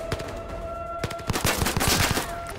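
Rapid gunfire in the VR shooter Zero Caliber, a loud burst of repeated sharp cracks crowding the last half of the moment after a lone early shot, set against a steady electronic tone.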